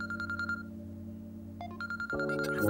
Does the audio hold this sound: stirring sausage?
no